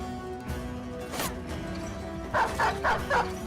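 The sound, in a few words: dogs barking, from the video game Battle Brothers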